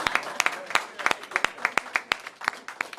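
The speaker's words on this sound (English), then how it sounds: "Let's give her a round of applause." Sparse applause for Mayor Muriel Bowser at a small business grants event, made up of scattered, distinct handclaps from a small group, fairly quiet and irregular.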